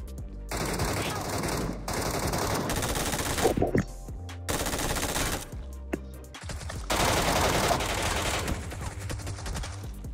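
Sustained automatic gunfire in PUBG Metro Royale, loud and near, with dense bursts broken by a few short pauses, and brief voices underneath.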